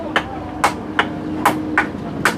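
Six evenly spaced, sharp knocks of a hammer drive a wooden prop that braces a house, each impact close and loud with a slight ring.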